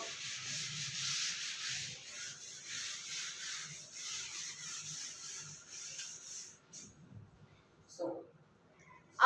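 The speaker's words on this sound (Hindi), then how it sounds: "ये रब कर दो" Writing is rubbed off a classroom board in steady back-and-forth strokes, a soft close scrubbing that runs for several seconds and then stops, with faint voices in the background.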